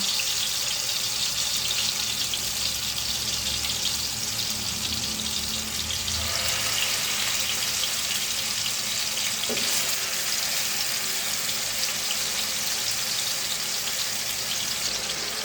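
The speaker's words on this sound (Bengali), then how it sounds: "পারফেক্টলি গরম হয়ে যাওয়ার পরে তেলগুলো এক এক করে আমি মাংসগুলো দিয়ে দিচ্ছি" Chicken leg pieces frying in hot oil in a pan give a steady, loud hissing sizzle that holds evenly throughout, with no talking over it.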